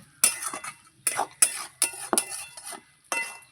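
Eggplant pieces stirred in a pan while cooking fish curry, with a spoon scraping and clinking against the metal in several short, separate bursts, fairly close, followed by quiet gaps and no talking.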